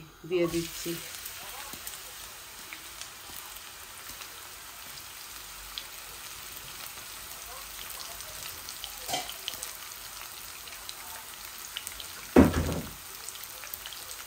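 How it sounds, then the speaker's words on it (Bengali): A large onion tossed into a pot with dry whole garam masala, sizzling and frying steadily at a low level, with a brief louder clatter of stirring near the end. "আমি এখন একটা বড় অনিয়নও দিয়ে দিচ্ছি।"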